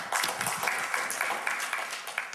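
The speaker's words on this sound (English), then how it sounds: "Give me a round of applause." An audience gives a brief round of applause, moderately loud scattered clapping that holds steady for a couple of seconds.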